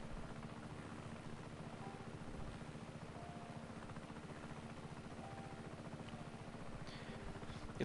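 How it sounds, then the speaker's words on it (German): Helicopter in the open-world game Just Cause 3, its rotor chop and engine drone running loud and steady throughout with no break. "Jetzt sind wir hier gerade angekommen mit dem Hubschrauber"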